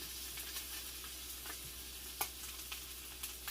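Chayote and ground beef sautéing in a pan with watery tomato, a soft steady sizzle under occasional light clicks and stirring taps, faint and close.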